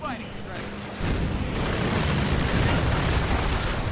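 Bombing run in Company of Heroes: a sustained, loud rumbling barrage of explosions kicks in after the first second and churns on continuously, with talk running underneath.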